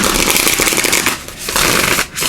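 Tarot cards are shuffled by hand in a steady run of riffling and sliding, close up, with two brief pauses and no talk.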